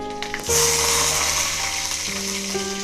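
Garlic and dried chillies dropped into hot oil, a sudden loud sizzle bursting in and then holding steady, with a faint tonal hum running underneath and no talking.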